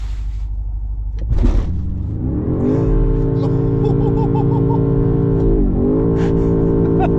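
A 2025 BMW M5 engine, heard from inside the car, with a brief burst and then a deep, loud steady drone as the engine is held at rising revs, with a faint voice briefly at the start.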